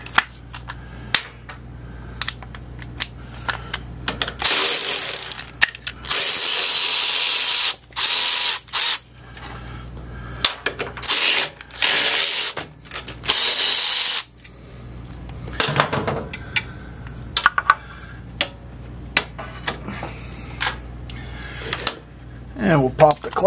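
Ratchet wrench removing the foot control from a Honda Shadow 600 bobber, clicking in several loud close bursts, with bolts loosening and some mechanical clatter between them.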